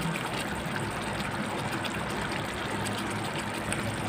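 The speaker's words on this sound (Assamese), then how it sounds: "গাখীৰ এগিলাচ ঢালি দিম" A steady stream of milk pours continuously, a soft splashing trickle filling a pot from start to finish with no talk over it.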